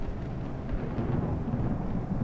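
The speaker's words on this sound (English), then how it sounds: "what the heck is the thunder for?" Low rolling thunder from a storm in Microsoft Flight Simulator 2020 over Hawaii, a dense continuous rumble with no distinct claps and no talk.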